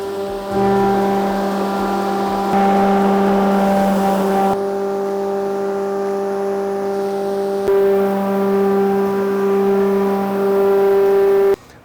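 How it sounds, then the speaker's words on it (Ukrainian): A loud Universal 11 hay crusher engine drones steadily and evenly at close range, its pitch shifting slightly a few times before it cuts off abruptly. "Як чуєте, двигун працює рівномірно та впевнено."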